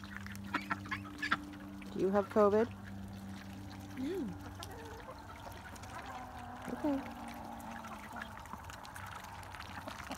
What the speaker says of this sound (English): Love to start the day with the sound of dabbling ducks